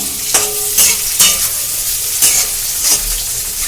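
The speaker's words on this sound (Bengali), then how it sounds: "পেঁয়াজটা দিয়ে দিচ্ছি তেলে" Chopped onion fries in hot oil in a pan for chana masala, giving a loud, steady sizzle broken by several sharp bursts of stirring.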